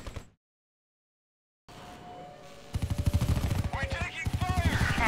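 Rapid, loud automatic gunfire rattles in sustained bursts during video game combat, following a silent gap and a stretch of quieter game ambience.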